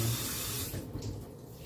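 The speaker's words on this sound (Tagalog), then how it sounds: "Maghuhugas tayo ng kamay" Tap water runs into a sink while hands are washed in an office pantry, a steady close splashing hiss that softens and thins toward the end, with no talking.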